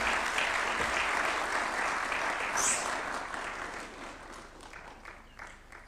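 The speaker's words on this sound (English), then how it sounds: "Another round of applause for Professor Michael Chege." An audience claps in sustained applause that gradually fades over several seconds, heard from within a large hall.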